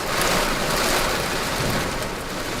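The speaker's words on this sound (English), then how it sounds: "Certain time of day when it just starts raining." Steady, heavy rain falling in coastal Malaysia, a dense, continuous wash of hiss with no pauses, close and fairly loud throughout.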